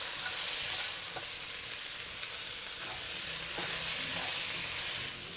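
Dried chilies stir-fried in a wok with chicken: a dense, loud continuous sizzle with occasional faint scrapes and taps of a spatula moving them around, close and without talk.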